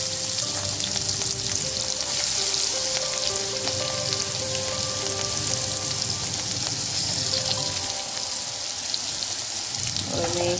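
Curry leaves, asafoetida and turmeric powder hit hot oil with a loud, dense, continuous crackling sizzle that barely changes across the whole stretch.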